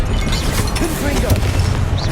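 A Confringo fire spell bursts in the Hogwarts Legacy video game, a muffled booming blast that rumbles continuously through the short stretch under busy game-combat sounds.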